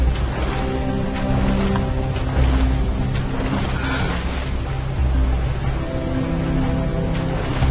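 Waterfall in the video game Jak & Daxter, a loud, steady rushing roar of falling water that holds constant throughout with no talk over it.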